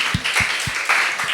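Church congregation clapping together during a Bible study orientation, a few evenly spaced, rhythmic claps in quick succession against a bright room hiss.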